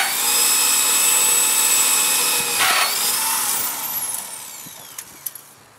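A Strong Arm 5 portable drill press boring into material, a loud steady high-pitched motor whine with a grinding cut that holds, then winds down and fades, ending with a few sharp clicks and knocks.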